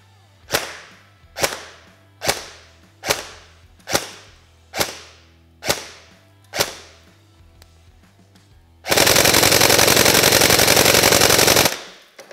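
A KWA Ronin T10 airsoft carbine shooting 0.2 g BBs on an 11.1 V lithium-ion battery, nine sharp single shots in an even rhythm, then a loud sustained full-auto burst lasting about three seconds.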